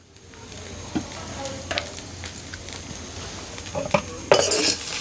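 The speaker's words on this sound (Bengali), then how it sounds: "এখন আবারও ভালো করে নেড়েচেড়ে মিক্স করব" A spoon scrapes and clanks against a pan while flattened rice pulao is stirred and mixed, under a soft sizzle. Sharp metallic knocks come at irregular moments, with a louder burst of clatter near the end.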